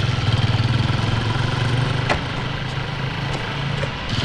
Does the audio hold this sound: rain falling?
no